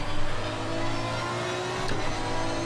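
A GT race car engine at high revs in the racing game Assetto Corsa Competizione, a sustained, high-pitched, screaming drone with slight pulsing, loud and steady throughout.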